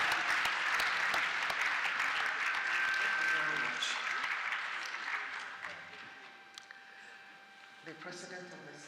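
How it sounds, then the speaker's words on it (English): Applause from the seated audience in a legislative plenary hall, a dense, loud, steady patter of many hands filling the room, then thinning and fading over the last few seconds as talk resumes faintly. "Please a round of applause for all of them as they're seated here with us in this hall"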